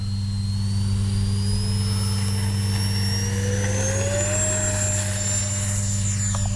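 A Freewing 64mm Banshee RC sport jet's electric ducted fan spools up for takeoff, a loud steady whine that climbs steadily in pitch over a constant low hum, close and alone with no talk.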